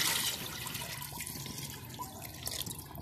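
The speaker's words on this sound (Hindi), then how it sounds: "अब मैं इसके अंदर जो है पानी डालूंगी।" Water poured into a cooking pot holding mutton for aloo gosht curry, a steady splashing pour at close range lasting a few seconds with no talking.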